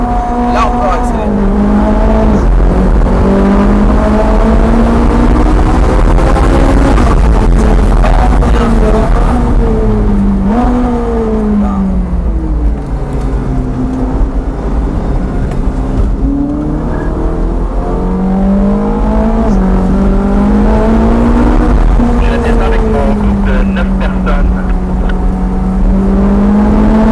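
A Ferrari F458 on a circuit screams loudly as it accelerates and brakes again and again, its engine pitch climbing and falling in repeated sweeps, with tyre noise and a voice talking at times.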